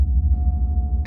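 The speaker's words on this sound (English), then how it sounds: "just play the gongs now" Gongs ring out in a sound healing session as a deep, sustained, throbbing hum that pulses slowly and fills the space on its own.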